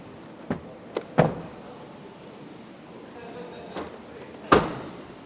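The side door of a Wuling Air EV electric car, first left not fully shut, closes with several sharp, near thuds and clunks spread across a quiet background, the last one loudest.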